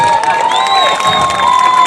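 A festival crowd in Sandovo applauds and cheers, a dense, steady wash of clapping and shouting voices that stays loud for the whole stretch, with some tonal ringing woven through it.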